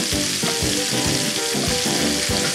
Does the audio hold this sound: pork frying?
yes